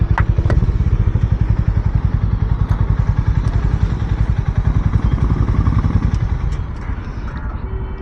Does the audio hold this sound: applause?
no